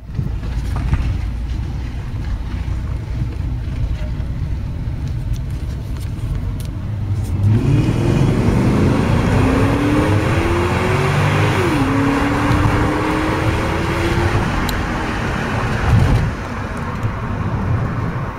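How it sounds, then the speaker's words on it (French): A C4 Audi S6 Avant V8 pulls hard through its gears, the engine note climbing steadily, briefly dipping at a shift, then rising again as the heavy wagon accelerates, loud and close with no talking. "l'accélération reste d'un niveau honorable compte tenu du poids et du handicap de la boîte"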